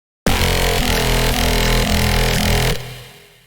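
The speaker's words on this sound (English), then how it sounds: "and this is my recreation." Foghorn-style bass recreated in the Serum synthesizer, a loud gritty growling tone with a rhythmic pulsing modulation, sustained for over two seconds before cutting off into a decaying tail.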